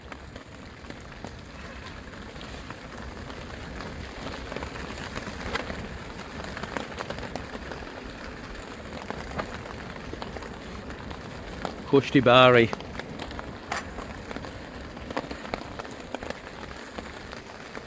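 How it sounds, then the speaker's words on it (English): Rain patters steadily over a hammock camp in wind and cold under a Snugpak hammock, a soft continuous hiss with scattered drops, and a person speaks briefly midway. "As you can hear, it's still raining"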